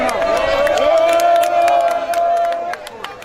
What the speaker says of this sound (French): Accueilli par une foule immense dans cette province réputée de l'opposition